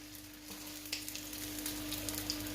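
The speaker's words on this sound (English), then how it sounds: "I'm going to let them sizzle there for a few minutes" Sausage meat sizzles steadily in a frying pan, a soft continuous crackle with small pops, fairly quiet and close, with no talking.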